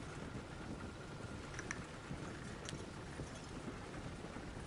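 Horse hooves clip-clopping in the Red Dead Redemption 2 video game, a faint, irregular trotting rhythm under a constant hiss of rain or wind, with no talking.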